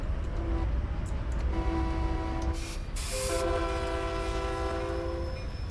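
Older-style locomotive air horn in Train Simulator 2019 on Cajon Pass, sounding in two long blasts, the first with short choppy toots before it, loud over the steady engine drone of the locomotives.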